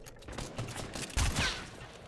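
Gunfire rings out in a Fortnite match as a few quick bursts of shots, with one sharper report standing out, set against a busy game soundscape at moderate loudness.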